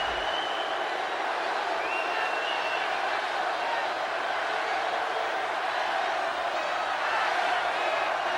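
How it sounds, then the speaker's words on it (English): Wrestling arena crowd chanting at Mr. McMahon, a dense, continuous roar of many voices filling the venue, loud and sustained throughout with no break. "You hear this crowd chanting at Mr. McMahon"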